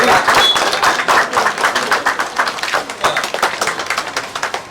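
Dense applause and clapping from a crowd at a Telugu ceremony, many hands clapping steadily for several seconds at close range, with faint voices mixed in.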